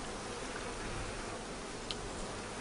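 Honeybees buzz continuously and densely around an open, healthy hive during an inspection, a close, steady hum with no voices.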